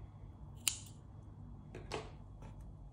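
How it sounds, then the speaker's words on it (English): Scissors snipping crochet yarn, one crisp close snip followed by a softer second snip over a low background hum. "I'm gonna cut my old color yarn here"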